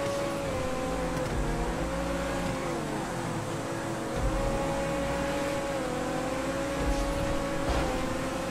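A 9F sports car in GTA 5 races with a steady, loud engine drone, holding a sustained tone that rises and dips gently with throttle changes throughout.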